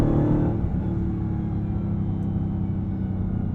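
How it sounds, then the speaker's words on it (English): Low, steady engine rumble from a Dodge Challenger SRT Jailbreak under acceleration, heard from inside the cabin, with a continuous drone and a faint supercharger whine layered over it. "Well, there's that supercharger."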